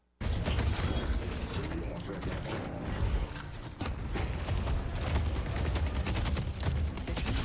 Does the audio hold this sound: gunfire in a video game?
yes